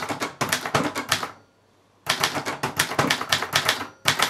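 A Brother Deluxe manual typewriter clacks out quick runs of sharp keystrokes, close and crisp, in two bursts separated by a brief pause, then a few more strikes at the end.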